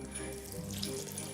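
One and a half cups of water are poured into a cashew camembert mixture, a steady close rushing pour that runs unbroken and fairly quiet throughout.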